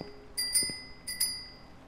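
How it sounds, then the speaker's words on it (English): Two quick bright bicycle-bell rings from a tin can alarm trap in the video game Rust, each a pair of metallic dings, about half a second apart, fairly faint and alone. "when you break it, or walk across it, I should say, it rings a bicycle bell"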